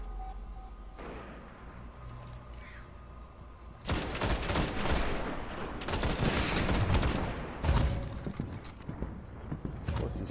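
Enemy gunfire in a team shooter game: a quiet stretch, then heavy bursts of rapid shots and mechanical clatter that persist loudly to the end.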